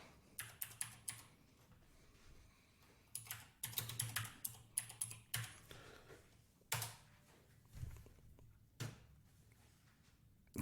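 Keys clatter on a computer keyboard as a search term is typed, in quick faint bursts of clicks with short pauses, ending in a few isolated louder taps.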